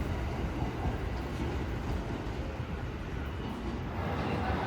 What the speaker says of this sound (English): the Limited Express departs ahead of the train